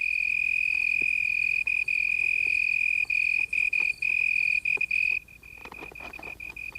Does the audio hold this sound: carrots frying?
no